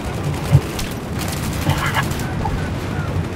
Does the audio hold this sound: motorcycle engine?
no